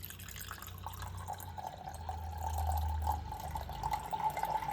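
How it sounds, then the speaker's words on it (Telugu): Salt water (brine) poured into a jar of shredded cabbage while making sauerkraut, a steady close splashing and trickling of liquid that swells slightly midway and runs continuously, with no talking. "ఆ నీళ్ళని, ఉప్పు నీళ్ళని మొత్తం దీంట్లోకి, ఈ జార్లోకి వేసుకోవాలి."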